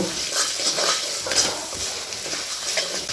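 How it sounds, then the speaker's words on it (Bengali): A ridge gourd and potato dish stir-fried in a pan over a medium gas flame: a continuous close sizzle broken by repeated spatula scrapes in a loose rhythm, with no speech. "গ্যাস মিডিয়ামে রেখে এটা ভালো করে ফ্রাই করে নেব"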